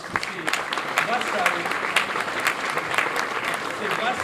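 Sustained audience applause fills an evening award ceremony for the Concours Lépine inventors' competition at the Montpellier international fair, dense, steady clapping throughout with scattered crowd murmur and some talk mixed in.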